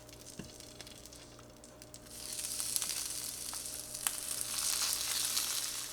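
Meatballs returned to a drained frying pan set off a soft sizzle that swells after a couple of seconds into steady, close frying crackle, with faint clinks at the start.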